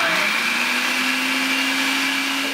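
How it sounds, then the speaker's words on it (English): A blender whirs loudly and steadily while blending paleo mayonnaise with red pepper, its motor holding a constant pitch after a brief rise at the start, close and continuous throughout. "And then we're going to blend this all up."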